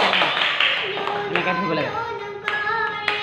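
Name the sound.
people clapping hands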